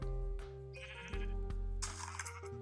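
Sheep in a pen from a video game, bleating against a steady tonal in-game background with electronic hum, close and fairly quiet.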